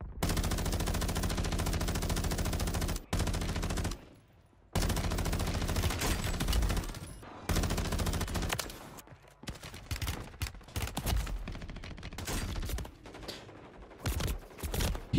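Dense automatic gunfire and bursts rattle through a Call of Duty Warzone match on Rebirth Island, nearly continuous at first, then breaking into shorter scattered volleys.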